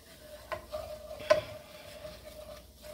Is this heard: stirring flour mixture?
yes